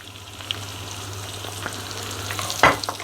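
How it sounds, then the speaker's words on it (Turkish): Chopped onions sauté in melted butter in a pan, giving a soft, steady sizzle at close range. A brief clatter of stirring comes near the end. "Tereyağımız eridi. Soğanlarımızı ilave edelim."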